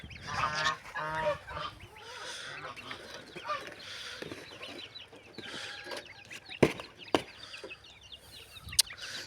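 Geese honk repeatedly at close range around a farmyard, with goslings hatching nearby; a string of nasal calls early on, then scattered honks and sharp clicks over quieter background.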